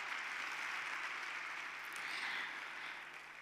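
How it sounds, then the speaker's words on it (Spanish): Audience applause at an economic forum interview, a soft, distant hiss of many hands clapping, steady and fairly faint, tapering off at the end. "No interrumpo aplausos."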